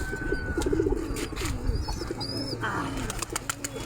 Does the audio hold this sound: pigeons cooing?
yes